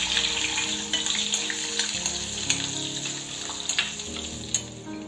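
Ginger and garlic fry in a kadai with a steady, close hiss and crackle, punctuated by small pops and the occasional scrape of stirring, with no voices.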